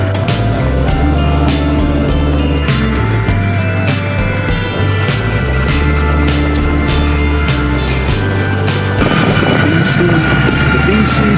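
A Royal Enfield Super Meteor 650 motorcycle drones as it climbs uphill with panniers and saddle bags fitted. The engine tone is steady and loud throughout, with wind rush and small shifts in pitch, and the sound swells near the end.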